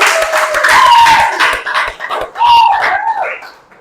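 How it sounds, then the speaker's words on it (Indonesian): Classroom students clapping together in a burst of applause, with loud hand claps mixed with cheering voices and shouts that rise and fall over a few seconds. "tepuk tangan dulu nak"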